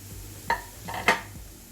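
Green chilli and capsicum stirred into fried onions in a pan, a couple of sharp metallic clinks and scrapes of the spoon against the pan over a faint sizzle, close up.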